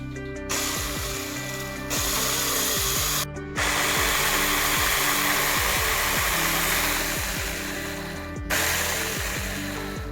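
A small chain-type tree-cutting machine drones loudly and continuously, its engine pitch rising and dipping as it revs, with a few brief pauses.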